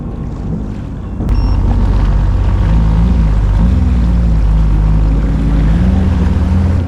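A Sea-Doo engine roars to life as the craft takes off north on Wrangell Narrows in Alaska, jumping from a quieter idle to a loud, steady drone with wind and water rushing past.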